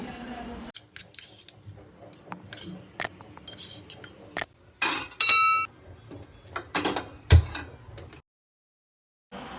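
Peeled garlic cloves are pounded in a home kitchen, giving a series of sharp, irregular knocks and clinks close by, with short pauses between strikes before the sound goes quiet at the end.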